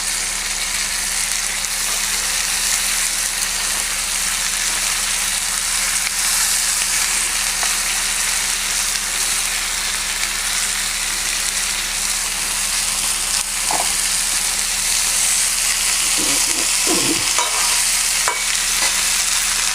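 Cabbage, lightly parboiled, sizzles and fries steadily in a pan with a hilsa fish head, with occasional stirring clinks and scrapes near the end; loud and continuous, no talking.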